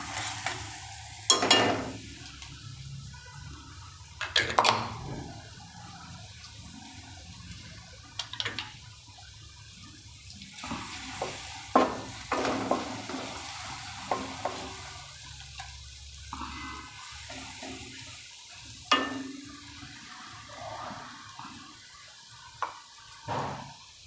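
Ginger, green chilli and garlic paste fries in oil in a pan and is stirred now and then, giving a soft low sizzle broken by repeated clacks and scrapes of the spoon, with no talking.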